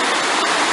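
A waterfall near Florence Falls in Litchfield National Park rushes in a steady, dense roar of falling water, continuous and fairly close, with no voices.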